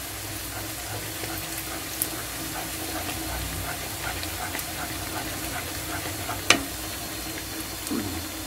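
Onions fry in a pan as they turn reddish brown, giving a steady, close sizzle with a few brief clicks from stirring and no talking.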